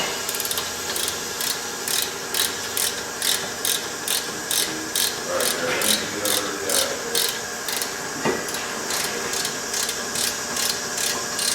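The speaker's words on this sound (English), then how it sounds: "Now we need to torque the bolts" A torque wrench ratchets on the brake caliper bolts of a Subaru Outback front brake, making a close series of evenly spaced, loud clicks in a steady rhythm with a brief clunk near the end.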